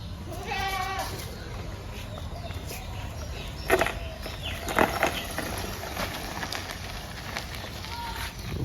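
Goats bleat at a busy local vegetable market, a few short calls rising over steady crowd noise with people talking nearby.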